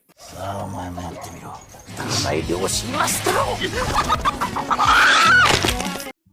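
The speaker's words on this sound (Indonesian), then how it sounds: "Ryuga yang ketakutan pun memaksakan dirinya membunuh ayam itu dengan tangannya" A chicken, about to be killed by hand, clucks and squawks loudly and agitatedly in a continuous flurry, rising to a shrill cry near the end amid other scene noise.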